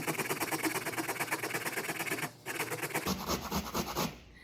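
Unpeeled ginger zested over a stir fry, a quick rhythmic run of close scraping strokes that pauses briefly, then resumes as a few more rasping passes.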